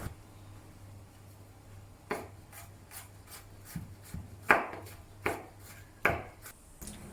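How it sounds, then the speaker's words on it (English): Knife chopping onion and tomatoes coarsely on a board for Dum Aloo onion paste, a handful of sharp separate thuds spaced a second or so apart, close and fairly quiet after a soft scraping start. "Coarsely chop some onion. And also coarsely chop some tomatoes."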